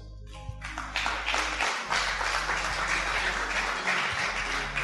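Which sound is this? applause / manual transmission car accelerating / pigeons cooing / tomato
applause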